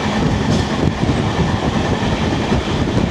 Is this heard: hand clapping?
no